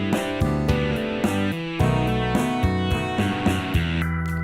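Electric guitar plays a repeating riff with gliding pitch changes between notes, steady rhythm, distorted and up front.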